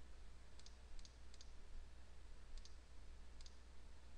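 A computer mouse clicking a cancel button: faint, close double clicks repeated five times at uneven intervals over a steady low hum.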